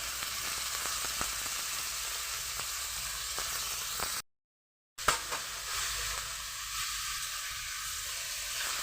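Crumbled paneer fries in a hot pan with a little chili powder, giving a continuous bright sizzle and hiss, broken by a short silent gap and a stirring clack before the sizzling resumes.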